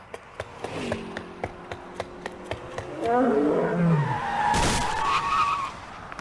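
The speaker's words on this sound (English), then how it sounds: "that lady just got hit by the lion truck" A cartoon truck carrying lions skids across an intersection and hits a pedestrian: light ticking, then a screeching, sliding engine sweep and a sharp, loud impact thud, with no talk.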